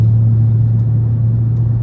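Loud, steady low exhaust drone from a tuned, straight-piped BMW 335i with no catalytic converter, cruising with a constant deep hum and no talking.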